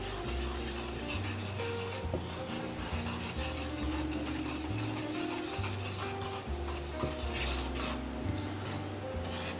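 Food cooking in a pan with annatto powder, stirred with a steady scraping and rubbing rhythm over a faint sizzle, close and continuous throughout.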